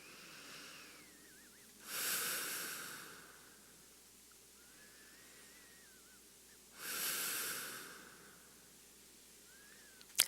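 Slow, soothing breathing during a yoga hip stretch, two long airy breaths spaced several seconds apart, close and soft, with quiet background between them.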